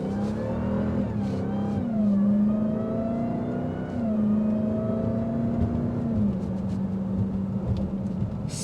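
A 2025 Dodge Durango SRT Hellcat V8 revs loudly and continuously, its deep engine note rising and falling in pitch across several sustained pulls, close and alone without talk.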